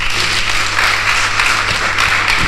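Steady applause from an audience fills the room at a forum event as a young woman named Karina Ngolé is called up, dense hand clapping holding an even loudness throughout.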